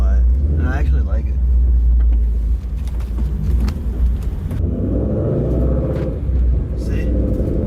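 A Ford Mustang's exhaust runs quietly below 2000 rpm, a low steady rumble heard from inside the stripped-out cabin, with someone talking over it for much of the stretch.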